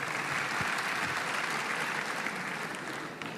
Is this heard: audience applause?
yes